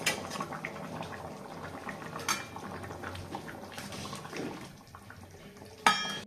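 A pot of water with rice and a fish head coming to the boil for a Bengali murighonto, a soft bubbling hiss with scattered clinks of utensils against the pot and one sharper metallic knock near the end.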